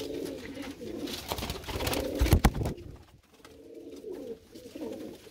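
Pigeons coo repeatedly at close range in a loft kept by a pigeon fancier, with the low soft calls running throughout and a brief louder rustle or flutter partway through.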